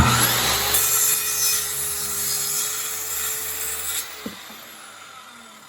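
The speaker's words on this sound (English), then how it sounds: "You want to start your saw before you dig into the wood." A circular saw cuts straight across a 2x4 of wood, a loud close whine that holds steady for about four seconds before the blade breaks through and the motor winds down.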